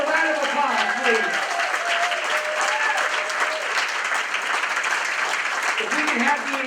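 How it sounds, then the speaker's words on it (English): Sustained applause from a seated crowd greets a Champions for Children award winner, with even clapping over the whole stretch and brief voices calling out near the start. "Give her a round of applause, please."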